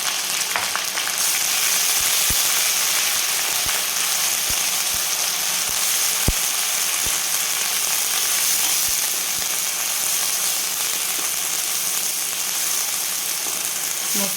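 Onion and coconut masala paste fries in a pan with a steady, loud, dense sizzle, broken by a few faint clicks of stirring, with no voices.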